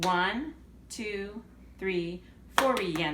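A voice counts the beats aloud while hands clap one measure of a rhythm exercise. The claps are soft at first and end in a short, quick flurry of sharp claps.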